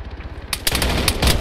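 Gunfire aimed at a BMP armored vehicle in the military game ARMA 3, a burst of loud repeated shots starting midway and continuing in a rapid, uneven rhythm.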